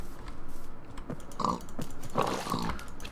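Pigs grunting and oinking in the video game TerraFirmaCraft, a few short grunts rising over a steady background hum of game ambience, with no talking.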